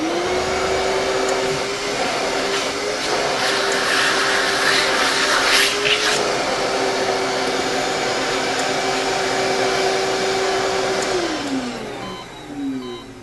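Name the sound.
veterinary vacuum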